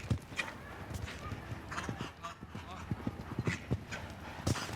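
Show jumping horse hooves thudding on the arena footing at a show jumping competition, an irregular run of strikes heard under an announcer's commentary.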